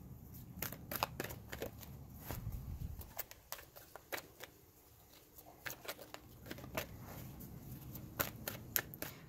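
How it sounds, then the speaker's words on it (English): A deck of tarot cards being shuffled by hand during a reading, quiet close riffling and soft snapping clicks in irregular bursts with a brief lull in the middle. "2 more shuffles, and I'm going to take the bottom from the bottom of the deck."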